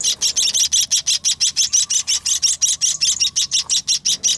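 A munia chick chirps insistently while being fed, a rapid, loud, evenly spaced series of high begging calls with no pauses.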